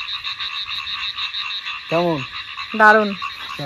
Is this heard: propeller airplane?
no